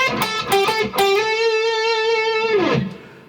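Distorted electric guitar playing a few quick picked notes, then a string bent up a tone and a half and held as a long sustained note before fading, from a guitar solo.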